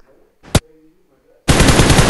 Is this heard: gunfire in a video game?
yes